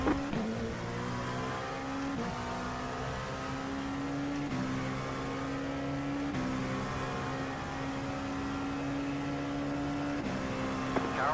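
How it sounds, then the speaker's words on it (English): LMP2 prototype race car at Virginia International Raceway, engine droning and shifting up through gears in steady loud pulls, heard from on board during an IMSA endurance race. "Faster car coming up quick."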